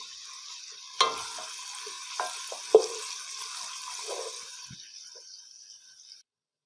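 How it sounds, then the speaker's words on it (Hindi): Onions fry gently in a pan over a low flame, giving a soft, steady sizzle with a few sharp clicks and knocks from stirring, fading out near the end. "लो फ्लेम पे हम प्याज को फ्राई करेंगे।"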